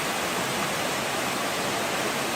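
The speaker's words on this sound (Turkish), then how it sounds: "bu zarif ve gizemli küçük şelale muhteşem bir şekilde akıyor" A small canyon waterfall on Narlı Darı Creek in the Kaz Mountains (Mount Ida), Turkey, rushes steadily, a dense continuous splashing roar with no pauses.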